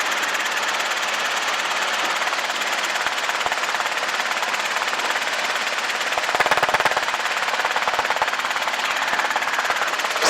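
Robinson R22 helicopter in flight on a training lesson, steady loud rotor and engine drone filling the cabin throughout, with a brief burst of rattling buffeting about two-thirds through and no talk.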